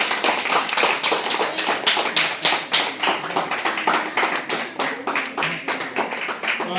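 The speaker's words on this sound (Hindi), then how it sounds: "एक बार उनके लिए जोरदार ताली बजाकर हम सभी आभार व्यक्त करेंगे।" An audience applauds loudly at a Rajyoga meditation gathering in a Gita pathshala, a dense run of rhythmic hand claps that carries on steadily for several seconds, close and full without any talking over it.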